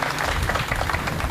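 Applause from a gathered audience at a Punjabi literary event, a loud, dense wash of many hands clapping continuously for a brief moment, with no speech over it.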